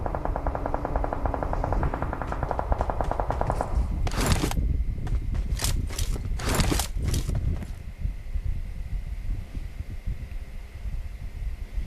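Bursts of rapid gunfire crackle in short volleys over a steady electronic hum in PUBG Mobile, with quieter stretches of game-like noise between them.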